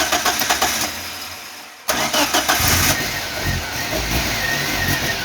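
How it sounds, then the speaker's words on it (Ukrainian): A Geely car engine catches after cranking and settles into a steady, loud idle, with a brief dip just before the start and rhythmic pulses of running engine throughout. "Все, автомобіль завівся."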